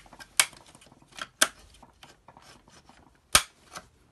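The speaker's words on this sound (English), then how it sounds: "Pop off these circuits with the flat blade screwdriver." A flat-blade screwdriver prying circuit boards off a Dyson DC33 vacuum during a motor and clutch change, with close scraping and rubbing and three sharp plastic snaps spaced irregularly.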